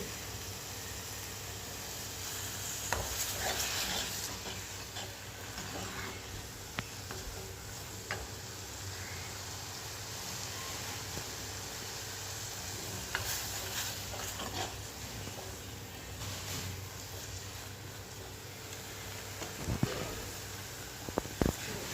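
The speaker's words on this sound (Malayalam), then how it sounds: "അങ്ങനെ നമ്മൾ പയ്യെ അത് വഴറ്റിയെടുക്കണം മൊത്തം നല്ല നന്നായിട്ട് വേവിച്ച് നല്ല കുഴമ്പ് വിധത്തിലാക്കി എടുക്കുക" Thick tomato masala paste for a prawn and mango curry being sautéed in a pan, a steady low sizzle and hiss with occasional soft stirring scrapes and clicks, fairly quiet throughout with no talking.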